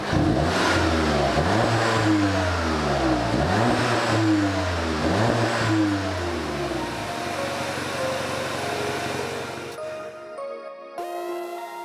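A Volkswagen Golf GTI TCR engine revs hard through repeated rising sweeps, loud and close, then settles to a steady drone before cutting off near the end.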